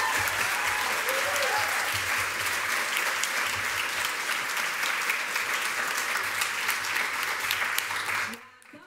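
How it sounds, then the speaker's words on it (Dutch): Warm applause from a festival audience for two columnists at a column-writing event, steady dense clapping throughout before cutting off abruptly near the end. "nog een warm applaus voor deze twee"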